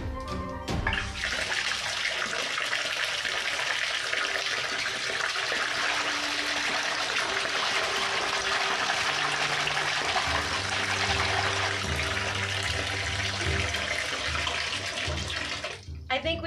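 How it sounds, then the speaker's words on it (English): Water gushes loudly and steadily from a tap into a bathtub, a continuous broadband rush that fills the whole stretch and stops near the end. "I'm going to fill up the rest of the tub"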